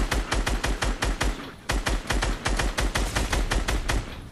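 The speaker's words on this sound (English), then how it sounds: "He's shooting. The NPC's shooting." Rapid automatic gunfire from a non-player character in a shooter video game, loud, sharp bursts in a fast steady rhythm with a brief pause midway before firing resumes.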